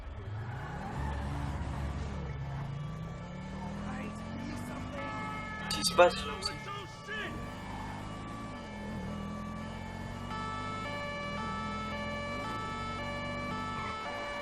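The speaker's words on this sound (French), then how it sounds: "C'est juste les sirènes." A wailing ambulance siren sounds in a police patrol video game, rising and falling in steady cycles over a car engine, while players talk over it and a brief louder burst cuts in midway.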